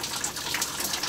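Water gushes steadily through a repaired shower in a converted bus, making a bright, continuous hiss with no pauses or voices.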